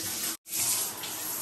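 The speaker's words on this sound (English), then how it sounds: "Shower? Ay, shower faucet?" Water runs from a shower faucet in a renovated bathroom, a close steady hiss broken by a brief gap before flowing again.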